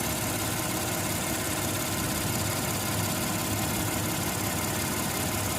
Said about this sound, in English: The engine's already started.